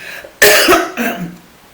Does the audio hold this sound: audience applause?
no